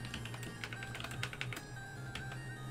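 Keystrokes tapped on a computer keyboard while coding, a steady patter of fairly close clicks with a few sharper bursts over a low constant hum.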